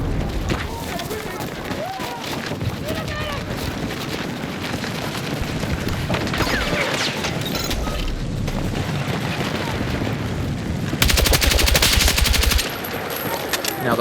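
Automatic rifle fire from Battlefield 6 rattles in dense, sustained bursts with booming impacts and a brief, louder burst near the end, over a constant battle din while a person talks.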